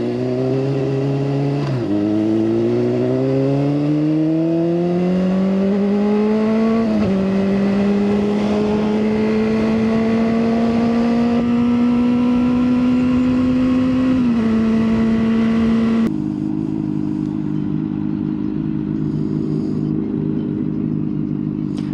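A BMW M3 convertible drives past on a Miami street, its engine revving up through several rising gear pulls, loud and close, then dropping away as it recedes.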